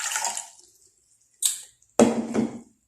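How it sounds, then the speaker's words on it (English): Distilled water poured from a measuring container into a small beaker while making a thick organic base cream, with a brief trickle and then a fuller splashing pour lasting about a second, close and clear. "This is my distilled water. Okay, I'll add it in here."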